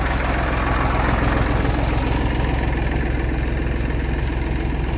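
A tractor running a Bartech crescent-type sprayer while spraying hazelnuts gives off a steady, loud, throbbing engine roar with a heavy low rumble and constant mechanical rattle, close by and unbroken by any talk.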